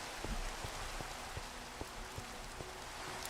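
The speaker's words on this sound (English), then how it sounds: "It's pouring down rain." Pouring rain in Minecraft falls as a steady dense hiss, with scattered soft taps of drops landing on surfaces, even and continuous with no voices.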